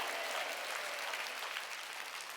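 A church congregation at a Wednesday worship service claps their hands together in a continuous, dense wash of applause, fairly quiet and distant, with no voices standing out.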